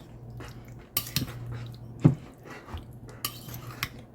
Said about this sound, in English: I'm going to add the ketchup. Of course, stir it up.